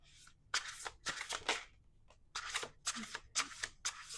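A deck of cards is shuffled close by in a quiet room, with a quick riffle, a pause, then several rapid crisp flutters and snaps in uneven bursts.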